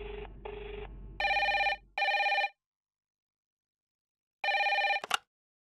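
A telephone rings in a short series of electronic trilling bursts, with a lower two-tone beep first, then a pause before one more ring and a sharp click as it cuts off.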